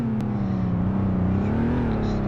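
A car driving and accelerating, its engine drone steady and close with a slowly rising pitch, a brief click near the start.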